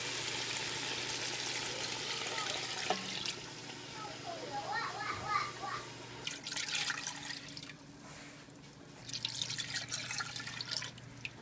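Water poured into a pot of browning oxtails for Jamaican-style stew, with a long pouring stream, some dripping and faint sizzle, heard close up in a kitchen.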